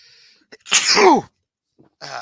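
A single loud sneeze close by, sharp and sudden, surrounded by near silence.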